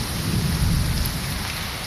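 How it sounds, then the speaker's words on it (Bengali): Heavy rain pours steadily outside a bedroom window during a dark thunderstorm, a dense continuous roar with low thunder rumbling underneath, loud and close throughout. "কি বৃষ্টি দেখতেছেন?"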